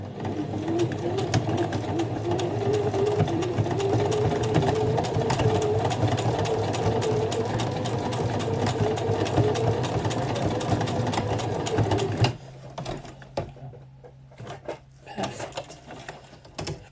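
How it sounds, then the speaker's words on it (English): An old, cranky sewing machine runs continuously for about twelve seconds with a steady mechanical whir and rapid needle rattle, then stops, leaving faint clicks and handling noise. "My sewing machine is a bit old and cranky at me at the moment."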